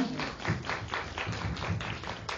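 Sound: applause welcoming a speaker

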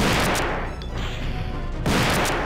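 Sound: gunshots in a video game

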